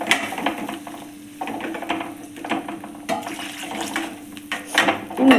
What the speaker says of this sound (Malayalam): ഇതിലേക്ക് നമുക്ക് ആവശ്യത്തിലുള്ള വെള്ളം കൂടി ഒഴിച്ച് കൊടുക്കാം.